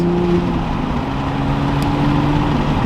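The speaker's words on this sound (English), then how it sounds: "It just sounds like a normal car now. Cruising with the windows down." A new Toyota Supra cruising with its windows down, giving a steady low engine drone with wind and road noise and a shifting tonal hum, loud and unbroken throughout.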